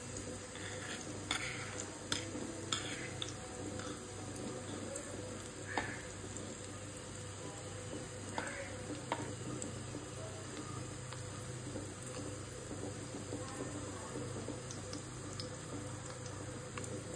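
Alu vadi, rolled colocasia leaf slices, fry in hot oil in a pan with a soft, steady sizzle and scattered faint pops and ticks, quiet and continuous throughout.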